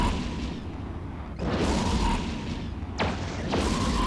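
Torpedo launchers firing in the EVE Echoes space game, heavy booming launches at roughly 1.4 and 3 seconds over a constant low rumbling ship hum, each blast sharp and loud then fading.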